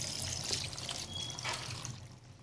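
Water pours and trickles steadily into a pressure cooker for mutton paya, a faint continuous splashing with a soft background hiss.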